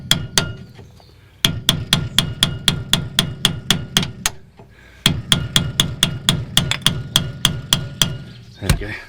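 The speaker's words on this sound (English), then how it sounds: "So I'm using the old bolt, and then just hammering." Repeated hammer strikes drive an old bolt against a seized brake caliper slider on a Honda Civic EG, sharp metallic blows in a steady rhythm of about three per second, in two bursts separated by a brief pause, loud and close.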